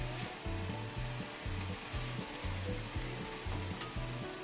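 Tomato being stirred into a sizzling mondongo stew, a constant frying hiss under repeated rhythmic scraping strokes of a spoon against the pot, close and fairly loud.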